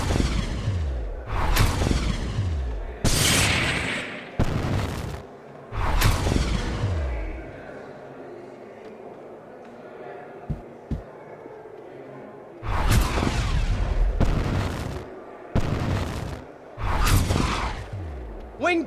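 Spell blasts from the Harry Potter and the Order of the Phoenix PC game: several loud, sharp booming impacts in bursts at the start and end, with quieter game ambience and a few soft thuds between them.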